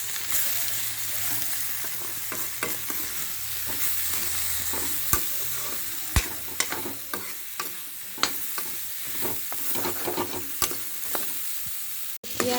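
Spice masala with turmeric and salt frying in a pan with brinjal, a steady close sizzle broken by repeated scraping clicks of a spoon stirring, with no talk.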